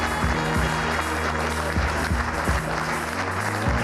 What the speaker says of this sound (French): Edouard et Sarah, que l'on applaudit très fort.